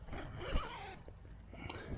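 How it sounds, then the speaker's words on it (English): A zipper runs along the window panel of a Slumberjack 9 x 16 ft cabin tent, a steady close scraping pull of about two seconds with a brief snag near the middle. "Right here, that would zip down right there for a big window"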